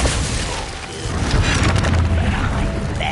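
A booming blast from the Confringo explosive spell in Hogwarts Legacy, a loud rumbling burst that swells and lingers with a crackling tail.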